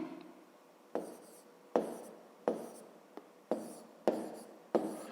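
Pen writing numbers in a fifth-grade maths exercise, heard as close, quiet scratching strokes with sharp taps about every three-quarters of a second, alone without talk.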